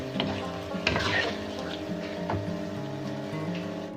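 Grated mooli radish sizzles and crackles steadily as it fries with turmeric and spices in a pan, with a few louder stir scrapes near the start and a continuous hiss throughout.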